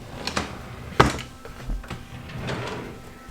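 A drawer in a garage hobby and craft storage unit is pulled and pushed, giving one sharp wooden clack near the middle with softer sliding and rustling around it, fairly quiet and close.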